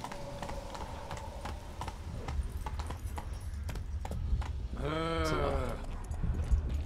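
Steady horse hoof clops tap along in a walking rhythm in The Witcher 3 video game, with a horse's short whinny rising briefly near the end.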